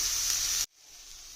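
Fish dropped into a hot pan for a Kerala-style fish curry gives a sharp, bright sizzle that holds steady for over half a second, then cuts off abruptly, leaving only a faint residual hiss.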